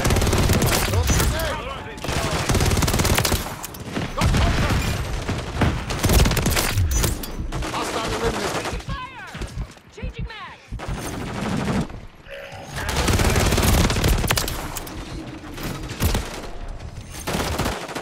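Call of Duty gunfire, dense rapid bursts of automatic weapons and booms filling the whole stretch loudly, with short lulls and radio-style voice callouts mixed in.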